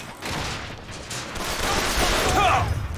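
Gunfire from the video game BioShock Infinite, a dense rattling burst of shots running steadily under a player's voice, building slightly louder toward the end.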